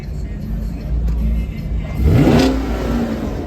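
A car engine at a park meetup revs up sharply, its pitch sweeping upward and holding before easing off, loud and close over steady idling and background crowd talk.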